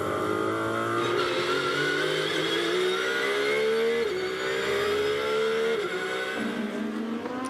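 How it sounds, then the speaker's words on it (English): A Porsche GT race car howls past during qualifying at Spa in the 24 Hours endurance race, its loud engine note climbing and dropping through quick gear changes, steady and close throughout with no talk. "Porsche over the line."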